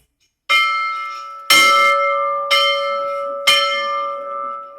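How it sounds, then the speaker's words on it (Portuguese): A hand-rung bell at a boarding school strikes four times at roughly one-second intervals, each stroke loud and close with a bright metallic clang and a long ringing tail that overlaps the next, with no talking. "eu uso o sino para tomar café de manhã, para as aulas, para ir almoçar, na hora de dormir"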